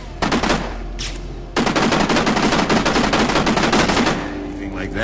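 Rapid automatic gunfire from blind fire behind cover in Kane and Lynch: Dead Men, loud and close, rattling in two long bursts separated by a brief pause.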